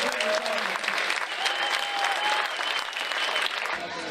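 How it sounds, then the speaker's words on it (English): A baseball crowd applauds at a HarbourCats game against the Kamloops NorthPaws after a ceremonial first pitch, a dense wash of clapping at moderate distance with faint tonal whistles or calls above it. "Everybody, big round of applause."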